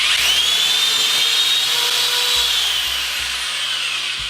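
A power drill whirs at a high, steady pitch with its motor running continuously and close, under a faint low hum, while a makeshift kitchen attachment is fitted to it.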